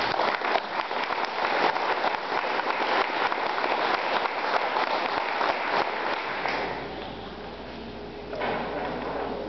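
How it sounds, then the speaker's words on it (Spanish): A crowd at a municipal event in Tlacuilotepec applauds the local health auxiliaries, a dense patter of clapping that holds for several seconds and then thins and fades toward the end. "Felicidades, un aplauso para todos mis auxiliares de salud."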